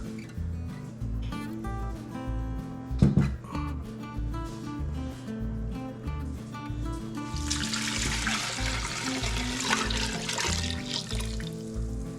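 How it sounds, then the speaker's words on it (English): Chicken broth is poured into a crock pot already holding bacon fat and onion for pinto beans, a trickling, splashing pour rising midway over steady background music. "Now we're gonna pour in the chicken broth."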